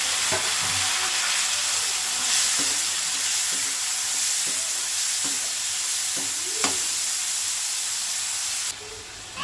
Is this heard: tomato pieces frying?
yes